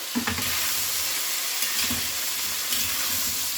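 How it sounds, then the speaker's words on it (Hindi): Vegetables frying in a covered handi for a restaurant-style veg Diwani handi, giving a steady, close sizzle with soft crackles and occasional stirring scrapes and knocks. "वेजिटेबल्स को फ्राई करते हुए 3 से 4 मिनट हो गया है"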